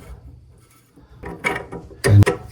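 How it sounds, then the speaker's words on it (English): A metal wrench tightens the stem of a leaking toilet shut-off valve after a rubber washer replacement, giving a few close, scraping mechanical clicks and rubs that build to a louder ratcheting burst near the end. "And tighten it with your wrench here."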